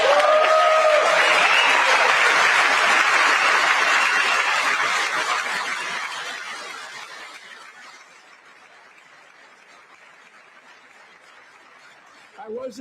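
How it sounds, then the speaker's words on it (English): A large chamber audience at a State of the Union address bursts into loud applause with cheers and a few whoops, then the clapping fades away to near quiet before a voice starts again. "I wasn't sure if anybody even on this side was going to applaud for that."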